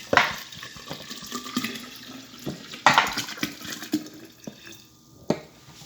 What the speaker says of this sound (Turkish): İçme suyu koyuyoruz.